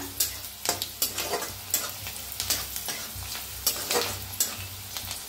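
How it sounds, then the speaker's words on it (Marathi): Onion frying in hot oil in a kadhai, a loud continuous sizzle with rhythmic scraping strokes of stirring about twice a second, no voices. "तेल तापले या, त्याच्यात टाकूया कांदा। बघा कांदा असा छान असा भाजायचा।"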